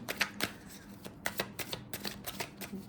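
Tarot cards shuffled by hand in a quick run of crisp riffling bursts, close and fairly loud, repeating in an uneven rhythm with no talk over them.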